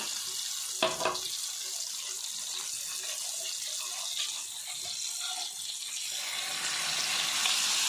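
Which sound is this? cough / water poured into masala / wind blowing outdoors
water poured into masala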